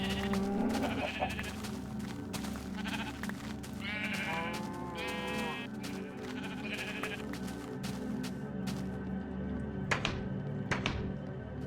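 Several sheep bleat in old Minecraft, their wavering cries rising near and clear in bursts over a low, steady hum, with a few dull thunks between them.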